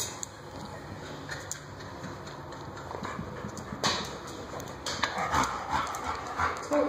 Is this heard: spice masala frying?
no